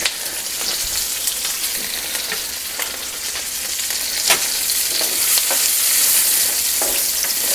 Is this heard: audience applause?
no